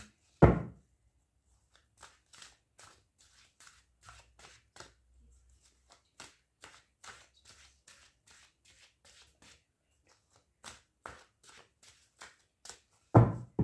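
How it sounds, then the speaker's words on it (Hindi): Tarot cards being shuffled by hand, a series of soft papery riffles and taps in irregular bursts, close and quiet, with a couple of louder handling thumps at start and end and no talk. "कार्ड शफल करना ना आपको थोड़ा सा बोर कर सकता है"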